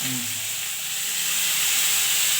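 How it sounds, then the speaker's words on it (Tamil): Finely chopped onions sauté in a pan for a quick chutney, producing a loud, even hiss of frying that holds steady throughout, with a low hum briefly at the start. "நல்லா வெங்காயத்தை போட்டு நல்லா வதக்கிக்கலாம்"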